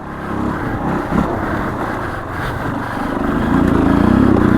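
A dirt bike engine revs through a wheelie on a dirt trail, a steady close motor drone that swells louder toward the end.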